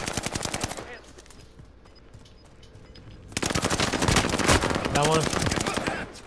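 Automatic gunfire in Call of Duty: Modern Warfare, loud rapid bursts in the first second, then a quieter lull and a dense sustained stretch of firing near the end, with players talking over it.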